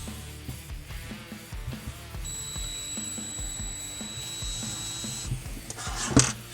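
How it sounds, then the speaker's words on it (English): A power drill whirs steadily for a few seconds with a high-pitched whine while drilling an airsoft MAC-11 gas blowback pistol, amid clanking workshop noises and a sharp knock near the end. "And we're going to drill"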